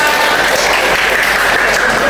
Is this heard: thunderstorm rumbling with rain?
no